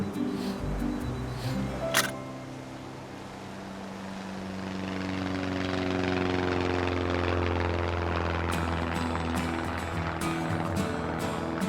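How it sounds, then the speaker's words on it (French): A plane flies over the Pyrénées-Orientales mountains, its steady engine drone building and holding loud throughout, with a sharp click early on. "au-dessus des Pyrénées-Orientales, un avion se dirige vers le centre du massif."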